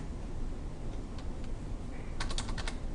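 Typing on a computer keyboard to enter a chart title in a spreadsheet, a short burst of quick, close key clicks near the end above a steady background hiss.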